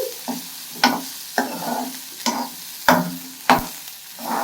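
Coconut, dried chillies, cumin and coriander sautéing in a pan, stirred in repeated scraping strokes roughly every half second to second over a soft, steady sizzle, close and moderately loud.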